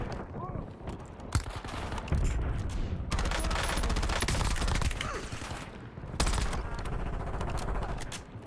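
Gunfire and a frag grenade in the video game Warzone, heavy rapid automatic bursts and booms that stay loud throughout with a voice talking over the shooting.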